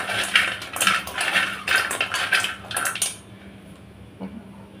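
Crispy homemade French fries tossed and mixed in a pan, heard as a run of dry rattling scrapes and clatters that stop abruptly, followed by a brief quiet tail.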